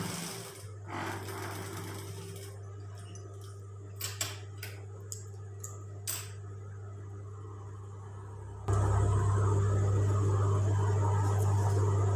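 A sewing machine stitches a lace seam with a low hum and a few light ticks and clicks at first, then runs steadily, louder and close, for the last few seconds.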